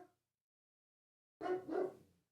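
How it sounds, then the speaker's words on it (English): A pet dog barks twice in quick succession, close and clear, indoors, after a short moment of silence. "My dog's going crazy."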